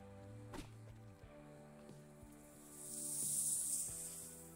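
A snake in Gas Station Simulator lets out a sustained, airy hiss that swells and fades over a couple of seconds, heard over a low background drone and a few soft thumps, moderately quiet and alone.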